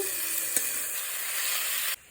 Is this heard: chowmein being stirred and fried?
yes